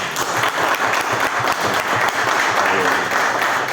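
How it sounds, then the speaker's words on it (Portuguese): A crowd at a committee meeting applauding steadily, dense clapping sustained throughout at close range. "Uma salva de palmas para o Guilherme aí."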